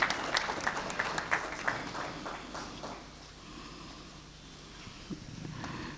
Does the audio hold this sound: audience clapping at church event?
yes